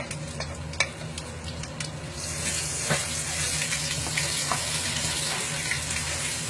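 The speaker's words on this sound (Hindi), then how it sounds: "इसके बाद आप अदरक लहसुन पिसा हुआ डाल दें।" Ground ginger and garlic sizzle in hot butter in a karahi for Peshawari namkeen karahi gosht, giving a steady loud frying hiss broken by scattered clinks and stirring scrapes, with no voices.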